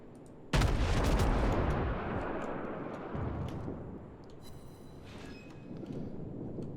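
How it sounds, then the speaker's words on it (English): Secondary guns of a German battleship fire in World of Warships: one sharp, loud blast opens a rumbling, booming volley that trails off, followed by a few lighter distant pops and crackles. "these German battleships, even the early tier ones, seem to have decent secondaries. They're cooking off right now"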